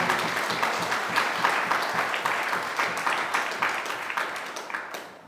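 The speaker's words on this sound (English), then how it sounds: "Can we please give them a round of applause for all their help?" An audience at a UK parliamentary election gathering gives a round of applause, a steady, fairly close clapping that fades out at the end.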